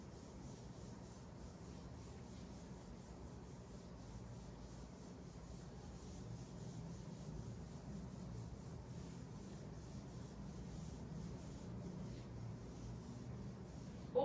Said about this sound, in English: Let me just erase what I've written.